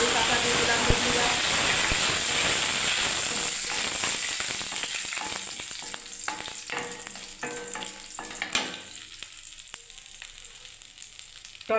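Curry leaves crackle and sizzle loudly in hot oil for a vegetable dish, a sharp, close hiss that slowly settles into scattered pops and spits.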